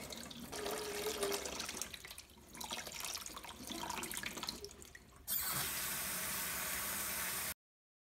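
Tap water runs and splashes into a bowl while sweet rice is rinsed, a continuous watery rush with pauses and swishing, ending in a brighter, steady stream before stopping abruptly.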